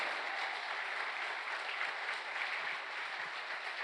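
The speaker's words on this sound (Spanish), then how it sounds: "Dale un aplauso al Señor." A church congregation applauds the Lord in an even, sustained wash of clapping that holds at a steady moderate level for nearly four seconds, with no speech.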